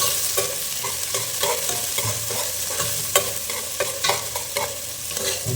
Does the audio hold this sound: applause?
no